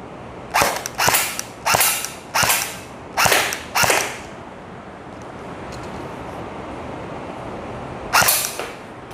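A Colt AR-15 M4 CQB-R airsoft rifle fires a run of six crisp, snappy mechanical shots at steady spacing. A single further shot follows after a pause, and no one speaks.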